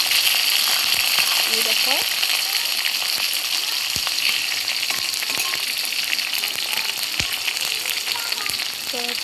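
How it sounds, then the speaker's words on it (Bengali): Onions fry lightly in oil in a pan with a loud, steady sizzle and occasional crackles and stirring clinks throughout, while a voice speaks briefly. "পেঁয়াজগুলো দিয়ে হালকা ভাজা ভাজা করব।"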